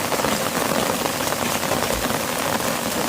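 Monsoon rain pours steadily outdoors in a Gujarati village, a dense, even hiss with no pauses and no voices.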